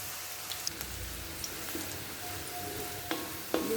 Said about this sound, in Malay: Bawang ni saya nak goreng dulu bersama 4 sekawan sehingga keperangan